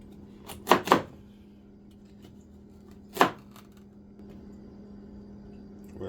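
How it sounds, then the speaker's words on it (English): A few sharp knife chops on a cutting board as carrots are chopped finely, a quick cluster then a single chop after a pause, in an otherwise quiet room. "we're just gonna chop this as fine as possible"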